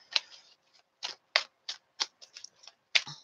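Tarot cards being shuffled by hand, close up: a run of short, papery riffling bursts in an uneven rhythm, with brief pauses between them and no voices.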